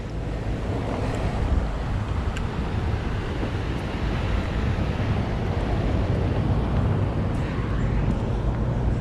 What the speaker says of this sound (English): I hear a blower,